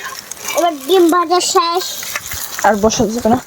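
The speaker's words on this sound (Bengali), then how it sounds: "আমাদের ডিম ভাজা হয়ে যাচ্ছে" Eggs frying in a pan for an outdoor picnic meal, a soft sizzle running beneath close, lively talk throughout.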